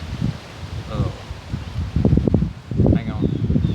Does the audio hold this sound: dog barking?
no